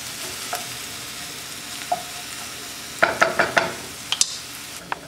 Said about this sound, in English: Saute a half an onion chopped and a half green pepper chopped.